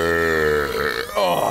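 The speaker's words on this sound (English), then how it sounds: "Now we have to chug it and see who can make the loudest burp." A loud, drawn-out burp follows chugging a bottle of Sprite, a deep voiced belch with a rough, gurgling texture that briefly breaks off near the end, heard alone and close up.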